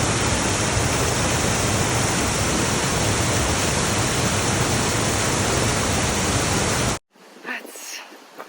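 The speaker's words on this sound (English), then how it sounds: "You can just feel the power of this water." A powerful Alpine waterfall near Wengen and Mürren in Switzerland thunders in a dense, constant roar for several seconds, then cuts off abruptly to quieter surroundings with a brief voice.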